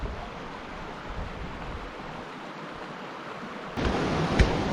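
Colorado River running through the bottom of the Grand Canyon, a steady rushing wash of water mixed with wind noise, moderately distant at first and then swelling louder and closer near the end.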